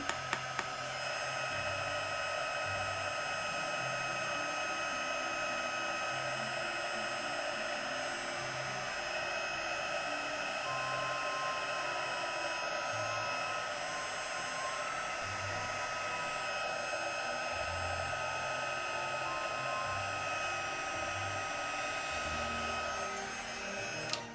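A heat tool blasts a steady, loud, airy roar close by as it melts embossing powder on a bead, holding unbroken for the whole stretch with no voices.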